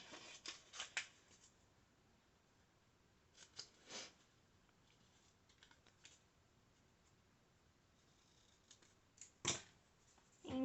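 Scissors cut paper in short, close snips, quiet clusters of crisp clicks and rustles separated by pauses.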